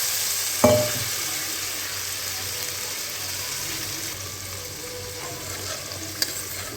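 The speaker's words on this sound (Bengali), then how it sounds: "এবার আমি গরম জল দেবো" Hot water poured into a pan of hilsa fish curry cooking in oil, a steady hissing sizzle opening with a sharp splash and continuing evenly, close and moderately loud.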